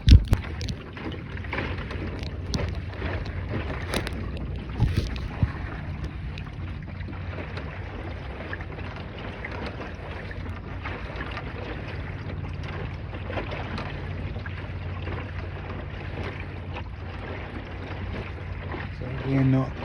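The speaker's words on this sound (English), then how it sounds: "This is the strongest breeze I've had all day" Steady breeze rushing past while sailing a small dinghy, a continuous low wind roar with water washing against the hull, fairly even throughout with a few brief knocks.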